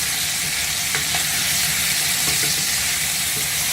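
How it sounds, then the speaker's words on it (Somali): Steady, loud sizzling of meat frying in a pot, a continuous hiss with a few faint clicks of stirring and no voices. "hilibkeena noo shiilaya"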